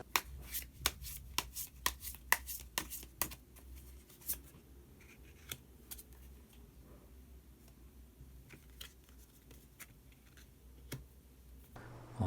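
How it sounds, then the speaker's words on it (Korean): Tarot cards handled and drawn from a deck: a quick run of crisp, close card snaps and flicks, then sparser soft rustles and taps in a quiet room, with no talking. "마지막으로 히든 카드 한 장 더 뽑아보도록 하겠습니다"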